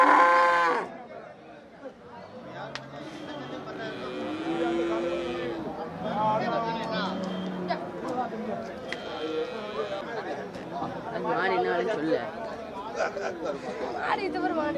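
Cattle low and moo at a busy rural market selling plough, cart and race bullocks in Melapalayam, several calls rising over a constant crowd chatter and nearby talking.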